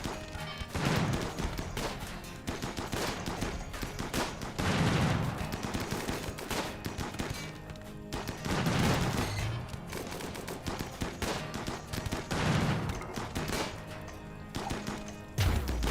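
Video game gunfire in a naval battle on a shallow-water map: rapid bursts of rifle and machine-gun fire with heavy impacts recurring every few seconds, loud and continuous throughout, with no voices.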